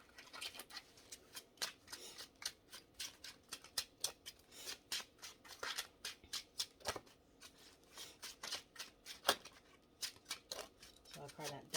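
Tarot cards being shuffled by hand, a rapid series of crisp riffling snaps and slaps in irregular bursts, close and quiet, with a soft voice talking faintly in between.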